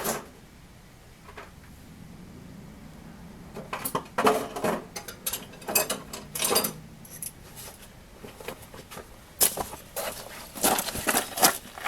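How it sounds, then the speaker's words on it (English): Torque wrench ratcheting while tightening sway bar bolts on a second-generation DSM car, heard as clusters of close metallic clicks and clinks in irregular bursts, moderately loud, with no talking. "I'm going to snug them up first and then I'm going to use the torque wrench"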